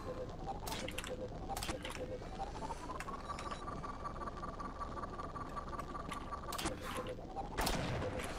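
Sharp gunshot cracks from a video game fire in scattered bursts over a dense, steady background of game noise and a sustained tone.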